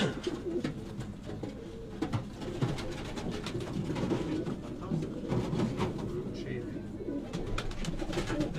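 Chpary old-breed pigeons coo in a loft in Sialkot, a dense, continuous layer of overlapping low throaty calls close by, with faint background noise.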